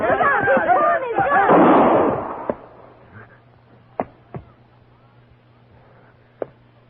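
A gunshot rings out in a 1958 western radio drama, Frontier Gentleman: a loud, close burst mixed with raised voices, then a few sharp, isolated cracks and knocks over a quieter background.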